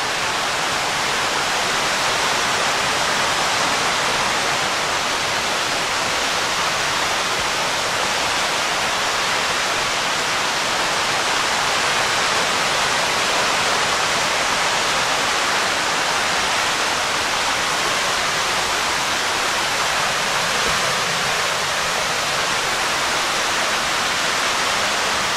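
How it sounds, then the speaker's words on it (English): Cottonwood Falls in Worlds End State Park, Pennsylvania, roars steadily and loudly without pause, a broad dense wash of falling water heard close up with no other sounds. "I'm pretty sure this is Cottonwood Falls"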